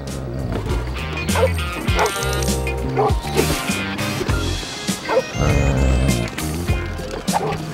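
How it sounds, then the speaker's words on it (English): A dog in the video game Lego City Undercover barks in repeated sharp yips against game music and effects, loud and close, with some voice heard among the barks. "I'm not sure he's the kind of dog that likes being petted."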